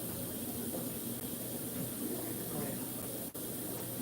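Garden water hose spraying at a fish-keeping setup, a steady soft hiss that runs continuously and evenly with a brief dip near the end.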